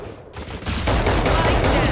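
Rapid video game gunfire, close and loud: a dense burst of shots that starts quickly and keeps up without a break to the end.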